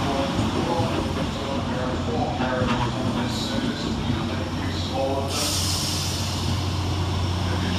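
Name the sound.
Transport for Wales 769 train arriving at Cardiff Queen Street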